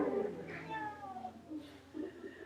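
A person imitates a happy cat with a bright, rising meow, followed by softer vocal sounds over a quiet room.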